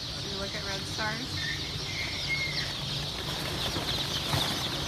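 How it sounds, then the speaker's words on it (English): Red Star chickens, a sexable brown egg layer breed, stir in a hatchery basket on hatch day, giving soft scattered chirps and rustling under a steady room hum, with a voice speaking briefly near the start. "This is a basket of Red Stars."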